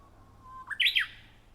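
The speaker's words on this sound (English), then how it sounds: "it's a Japanese bush warbler." A Japanese bush warbler in a town sings a single clear call: a thin, held whistle that rises into a quick, bright flourish. It sounds fairly close and there is nothing else in the background.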